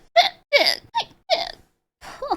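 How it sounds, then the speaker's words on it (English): A person hiccups five times in quick succession, each a sharp, close, voiced squeak with an uneven gap before the last one. "I'm sorry for all the hiccups"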